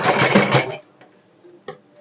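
A sewing machine stitches a straight seam with a dense, loud burst of running for about three quarters of a second, then stops, leaving faint clicks and a brief knock.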